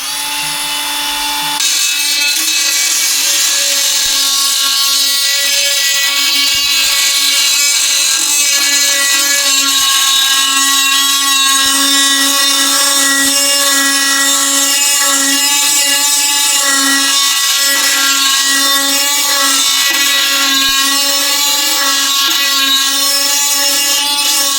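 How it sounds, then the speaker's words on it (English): A cordless Dremel B240 rotary tool grinds on a Corvette vacuum tank during restoration, a loud, continuous high-pitched whine that starts abruptly and holds steady with slight pitch wavering throughout. "Yeah, we're using a cordless Dremel here,"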